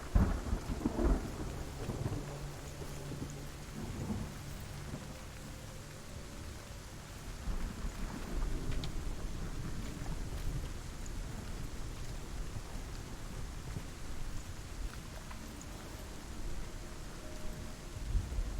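Thunderstorm with steady rain in the video game Hellblade, a continuous wash of rainfall with low rolling thunder rumbles, strongest near the start, holding at a moderate level throughout with no talking.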